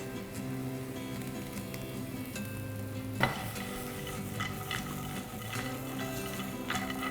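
Curry leaves hit hot oil with aubergine, salt, chilli powder and turmeric, giving a steady, close sizzle while the pan is stirred and tossed, with one sharp utensil clatter midway.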